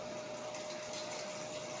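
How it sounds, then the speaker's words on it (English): Water is poured into a cooking pot while Jamaican turn cornmeal cooks: a steady, close rushing stream with a faint thin tone above it, continuous throughout. "I'm gonna add some more water to this pot."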